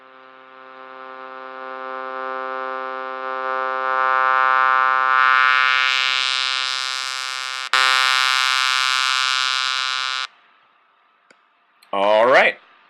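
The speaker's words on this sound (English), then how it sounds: "A bandpass filter cuts off the high frequencies and the low frequencies" A bright, buzzy synth tone through a bandpass filter holds steady and swells louder, its timbre shifting and narrowing, then cuts off abruptly; a short sweeping tone follows near the end.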